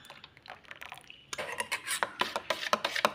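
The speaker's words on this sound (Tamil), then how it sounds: "நல்லா மிக்ஸ் பண்ணி விட்டுருங்க" Spoon clinking and scraping in a bowl as ingredients for a rice side dish are mixed, starting soft and growing into brisk rhythmic metallic taps.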